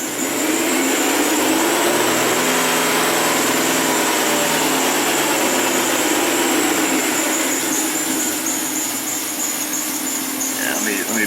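A Hyundai Sonata engine with a misfire runs at raised revs, a loud, steady, close-up whine and roar with a faint rising tone underneath, sustained throughout.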